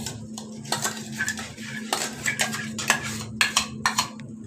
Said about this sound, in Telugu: తిప్పుతున్నాం.